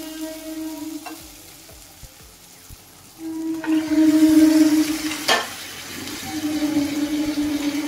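Chicken pieces drop into hot oil and well-fried spiced masala for a Bengali aloo chicken curry, giving a loud, sudden sizzle that swells and then settles into a steady crackling fry, with some stirring clatter.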